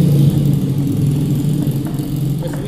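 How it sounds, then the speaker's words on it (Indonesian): Small remote-control toy car motor whirring steadily and close, a continuous buzzy hum with slight fluctuations throughout, no talking. "Sing motor-motoran remote control."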